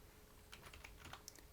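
Typing on a computer keyboard while entering an instruction name in PLC programming software, a short burst of light, quiet key clicks ending in one firmer keystroke, with no talking.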